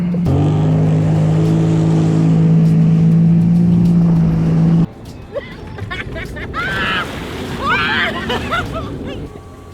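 A jet ski engine at a Texas state park, a loud steady motor drone for about five seconds that cuts off abruptly, followed by splashy water noise and voices talking.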